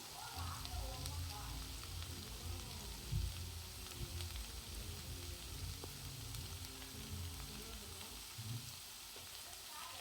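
Potato fry sizzles in a pan with turmeric, chilli powder and pepper powder added, a faint, continuous crackling hiss with a few small bumps of stirring throughout.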